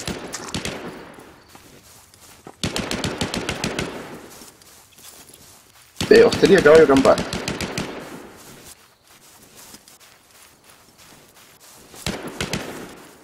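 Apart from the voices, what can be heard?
gunfire, many shots from the mountain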